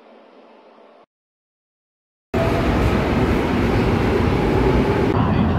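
Shanghai subway train ride: a brief low rumble, a gap of silence, then a loud, steady broadband roar of the metro car running close by, with a faint background murmur.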